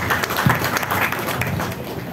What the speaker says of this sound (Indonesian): Tepuk tangan yang luar biasa boleh sekali untuk Bang Sandi.